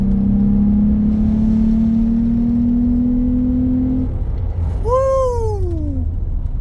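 A car with a cold air intake hums steadily, its engine tone creeping slowly upward for several seconds. After a short pause comes one quick rev that rises sharply and then falls away, loud and close from inside the car.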